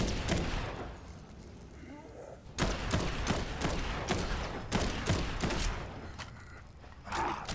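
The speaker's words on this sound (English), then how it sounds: "Set off the right side mortars at will, Sarge. Danger close mortars, ready when you are." Mortar barrage in the video game Dead Island 2: a rapid series of sharp explosive bursts and thuds, loud and close, packed together over a rumbling background.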